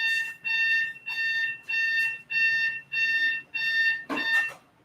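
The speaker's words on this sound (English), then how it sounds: "I keep forgetting to shut off my alarm" An electronic alarm beeps in a steady repeating pattern, about seven loud, close bursts evenly spaced, before a brief rough noise cuts in at the end.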